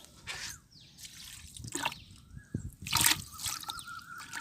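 Water with small earthworms in it poured onto a plant in a rooftop terrace garden during the rainy season, heard as soft close drips and trickles with a few brief splashes, no talking.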